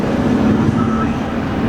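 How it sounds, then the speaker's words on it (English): A 2013 BMW F30 328i drives along with a steady low engine and exhaust drone and road noise heard from inside the cabin, continuous and fairly loud, with no talk over it. "this car sounds just great. Like the engine just sounds so good."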